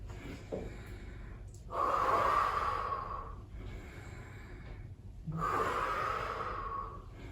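Two long, audible exhalations during a gym workout, each a breathy, airy rush lasting over a second, close to the microphone, separated by quieter breathing.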